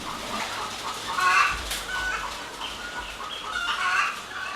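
Laying hens cluck in a poultry shed, a soft, busy chorus of overlapping calls at moderate distance over steady barn background noise, with no voices.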